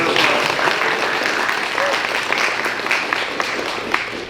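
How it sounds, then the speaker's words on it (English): Audience applause at a youth climate action holiday party, a steady wash of many hands clapping that fills the room for several seconds, with a faint voice or two mixed in. "A little round of applause."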